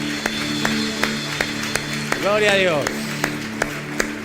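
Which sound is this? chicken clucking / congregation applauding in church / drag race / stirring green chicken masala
congregation applauding in church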